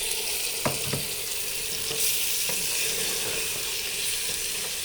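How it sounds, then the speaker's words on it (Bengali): Pulao rice fries in a pot with a steady, bright sizzle, with a few scrapes and taps of stirring and no talk. "তারপরে এটার মধ্যে চাউলটা ভেজে নিব।"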